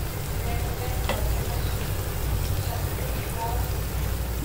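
Wheat flour appam batter sizzling and frying in a pan, a steady close crackle that runs unbroken throughout.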